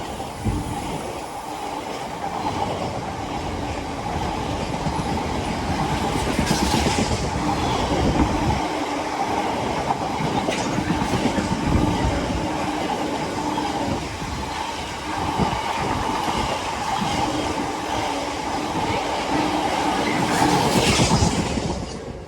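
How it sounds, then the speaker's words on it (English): A long freight oil train rumbles past up close, a steady roar of rolling wheels with rhythmic clatter and occasional metallic squeals throughout. "Here comes the oil train."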